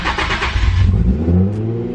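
A Nissan 350Z engine tuned for E85 cranks and catches, then revs up loudly and settles into a rough, rising drone, close by.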